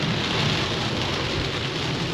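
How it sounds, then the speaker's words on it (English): Heavy rain pours down steadily in a dense, continuous hiss with no breaks or voices. "Heavy rain."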